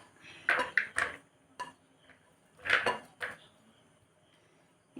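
Chopped onions tipped into a kitchen bowl for onion pakoda, giving a few sharp clinks and clatters against the bowl in two short bursts, with quiet gaps between.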